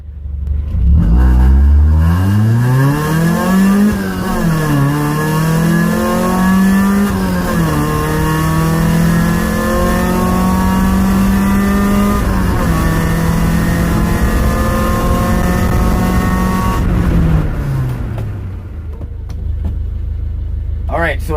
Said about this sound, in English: Time to go drive aggressive.